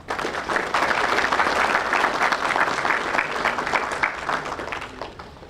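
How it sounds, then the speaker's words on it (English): Warm applause from an audience at a memorial ceremony for victims of the Hazara genocide, held at a cultural centre in Perth; dense steady clapping that fills the whole stretch and fades slightly at the end. "Please join me in giving her a warm round of applause."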